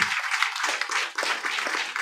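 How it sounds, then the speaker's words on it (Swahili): A church congregation claps hands together in a fast, steady, overlapping rhythm at a Pentecostal service, loud and close, with no speech over it. "Piga makofi lolote, piga makofi."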